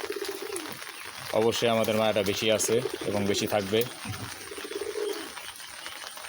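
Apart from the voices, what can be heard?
pigeons cooing on a rooftop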